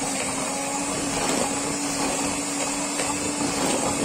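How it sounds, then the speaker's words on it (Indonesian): An electric mixer whirs steadily and loudly through nastar cookie dough, a continuous motor drone with no speech. "Kita mixer asal tercampur saja, jangan terlalu lama ya."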